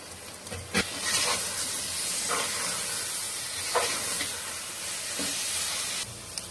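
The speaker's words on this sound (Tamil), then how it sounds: "அதையும் கூட சேர்த்து வதக்கிடலாம்." Chopped tomatoes sautéing in a pan for mutton biryani, giving a steady close sizzle and hiss with a few louder stirring scrapes, continuous throughout with no talking.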